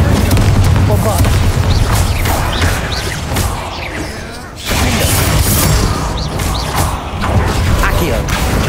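Spell blasts from Hogwarts Legacy, the Bombarda blasting spell among them, sound as loud crashing booms and mechanical rumbling inside a tomb, with a sudden dip partway through before the clatter swells back.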